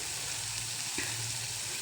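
Onion with a little salt fries in hot oil for a tempering, giving a steady, close sizzle and hiss, broken by one brief clink of stirring.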